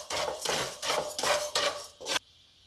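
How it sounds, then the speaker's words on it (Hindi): Fenugreek seeds dry-roasted without oil in a hot kadhai, stirred in quick rhythmic rasping scrapes, about five close, loud strokes before it stops. "अब इसमें को हम बगैर तेल के मेथी को थोड़ा भून लेते हैं।"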